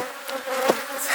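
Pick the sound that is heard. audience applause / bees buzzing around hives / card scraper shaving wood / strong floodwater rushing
bees buzzing around hives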